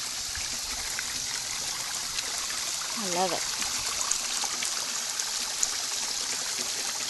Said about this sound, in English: So here's another view of my pond. Here's the waterfall.